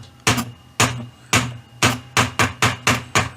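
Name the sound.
tapping turntable spindle on the top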